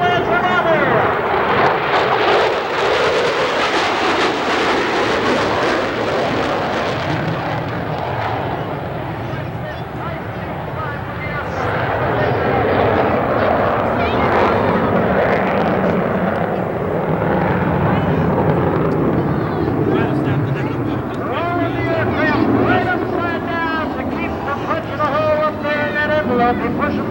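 A B-1 Lancer jet makes a high-speed pass over the runway at the 1990 Westover AFB airshow, a loud, sustained broadband roar that swells and fades over half a minute beneath an announcer's voice.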